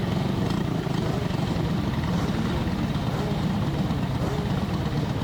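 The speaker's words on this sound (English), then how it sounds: "Engine running, ready to pull out on track." A racing kart engine runs steadily at a karting track before pulling out for qualifying, giving a continuous buzzing drone with no talk over it.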